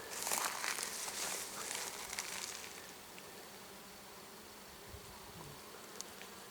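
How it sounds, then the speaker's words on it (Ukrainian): Faint honeybee buzzing hums steadily in the open air near a field of white sweet clover, with a few soft rustles early on and otherwise quiet surroundings. "Бджола гудить."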